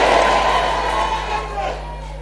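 A church congregation shouts and cheers together at a service, a loud, close crowd roar that swells briefly and then tapers off.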